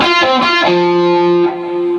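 Distorted electric guitar playing a short bluesy riff: a few quick picked notes, then a sustained bent note ringing out, loud and close.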